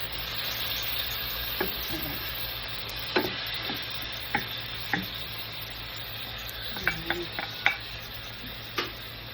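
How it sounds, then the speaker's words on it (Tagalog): Tomatoes fry in a pan for a sardine dish with a steady close sizzle, while a utensil stirs and taps against the pan in scattered clicks throughout. "Kailangan natin lutuin yung kamatis."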